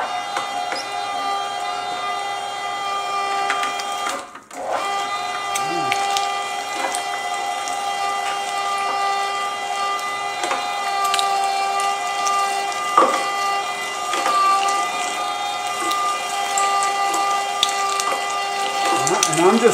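An electric meat grinder works through brisket and chuck for burgers. Its motor hums with a steady tonal whine throughout, dipping briefly once, while a voice talks over it at times.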